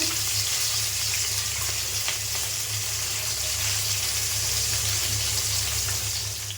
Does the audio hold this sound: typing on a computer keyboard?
no